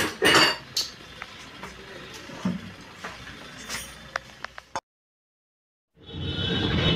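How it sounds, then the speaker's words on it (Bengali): A knife slicing tender young cluster figs, giving sharp scattered taps and clicks against a cutting surface, a brief silence, then a rougher burst of handling noise. "আমি ডুমুরগুলো এরকম করে কেটে নেব।"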